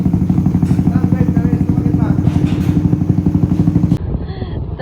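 Bagul's Raider 150 motorcycle engine runs at a steady, rapid idle-like chug with a clattery pulse, loud and close, dropping slightly in level near the end.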